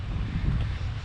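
Wind by the sea buffets the microphone with a low, rumbling, gusty roar throughout the brief moment, with no voices heard.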